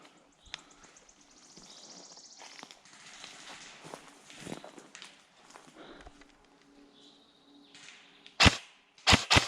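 Sharp gunshots in a video game crack near the end, a few loud reports after quieter rustling and movement sounds.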